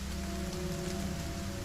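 Steady rain falls on a surface at night, a dense, continuous patter with no breaks, close and even, with no voices over it.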